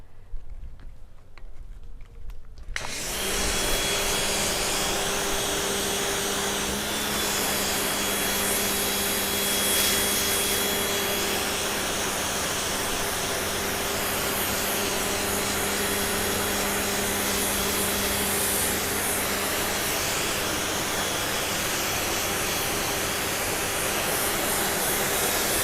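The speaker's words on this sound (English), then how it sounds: "rinsing it off using just plain water and the 25-degree angle on my pressure washer spray" A pressure washer with a 25-degree nozzle spraying plain water to rinse a Mercedes Sprinter-based Thor Sanctuary RV, starting abruptly after a quiet moment and then hissing as a loud, steady, continuous blast.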